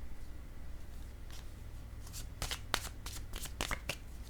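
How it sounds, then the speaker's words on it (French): Tarot cards shuffled and drawn by hand: soft riffling at first, then a run of sharper, close card flicks and slaps in the second half, heard alone over a low background hum. "Je vais piger une autre carte."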